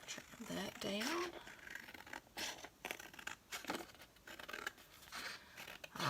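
Scissors trim paper craft tags in a fall-themed crafting session, with close, quiet snips and rustling scrapes in short irregular bursts, and a faint voice passing briefly underneath.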